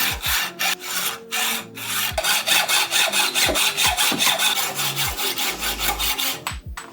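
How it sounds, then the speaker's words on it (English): Rhythmic back-and-forth sawing through a bicycle handlebar, close and loud, with steady rasping strokes repeating in an even rhythm. "And then you can just start sawing"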